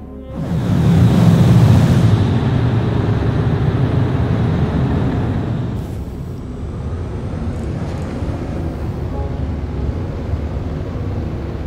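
Spaceship afterburners at full throttle in the video game Star Citizen, a loud, steady engine roar that swells in the first seconds and then holds as a constant rumbling wash, with no talking.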